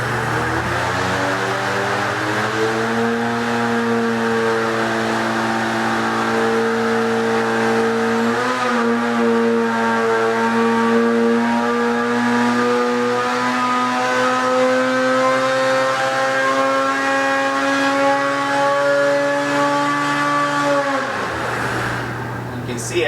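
An engine on a Superflow dyno holds a loud, steady high-rev drone at about 8,400 rpm during a power run, then cuts off abruptly at the end.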